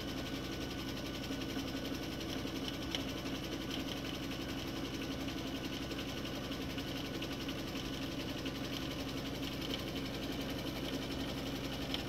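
A sewing machine stitching strips of fabric for strip piecing, running steadily at an even, rapid hum with a fine mechanical chatter, close and continuous for the whole span.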